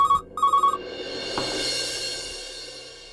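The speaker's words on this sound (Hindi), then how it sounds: "एते रातिरे किए फोन करथिबो?" A telephone rings at night in two short electronic trills close by, followed by a quieter lingering tone and low background hum.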